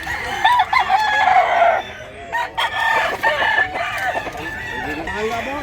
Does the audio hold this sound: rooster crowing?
yes